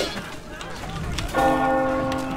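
A church bell tolls in the medieval combat video game Chivalry 2, one clear ringing strike that hangs and resonates over faint background game noise.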